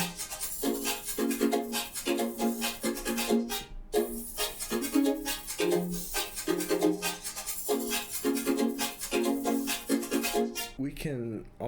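A percussive loop runs through Ableton's spectral resonator driven by a MIDI sidechain, giving pitched, tonal hits in a busy repeating groove, steady and close, ending with a brief pitch-swept flourish.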